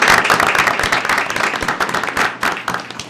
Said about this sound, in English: Let's give Donna a great round of applause